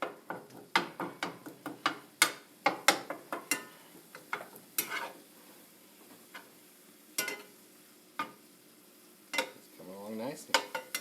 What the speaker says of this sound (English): I'm going to start getting the meat browned off